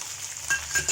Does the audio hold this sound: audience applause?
no